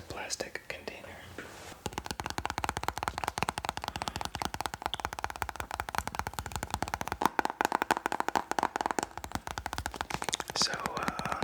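Fingers tapping on a plastic container, a quick, dense run of light clicks that continues almost nonstop under soft whispering.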